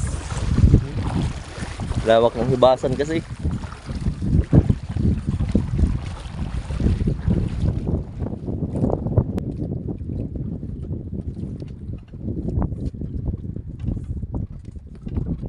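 A small boat out at sea in strong waves and a cold northeast wind, with rough wind buffeting the microphone and water rushing against the hull. Someone speaks briefly near the start.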